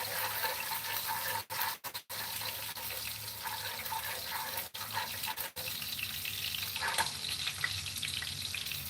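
Vegetable curry tempering in a hot pan in a home kitchen: a loud, continuous sizzle and crackle of frying, broken by a few short gaps, with no talk.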